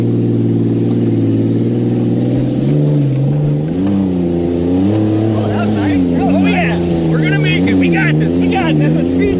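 An off-road vehicle engine revs hard in first gear on a steep hill climb, loud and close, its pitch surging and dipping in repeated waves while people talk and shout over it.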